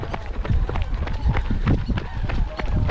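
Many marathon runners pound the pavement at the Crane Race, an early-morning half marathon around the Agamon Hula lake in Israel. The footsteps form a dense, continuous patter close by, with voices mixed underneath.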